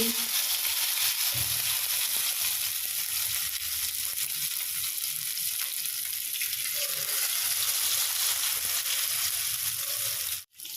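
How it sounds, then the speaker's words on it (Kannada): Fish pieces fry in a pan over a low flame, giving a steady, soft broadband sizzle that continues evenly throughout, with faint stirring sounds and a brief dip near the end. "ಈ ಥರ ಲೋ ಫ್ಲೇಮ್ನಲ್ಲೇ ಫ್ರೈ ಮಾಡ್ಕೊಳ್ಳೋಣ"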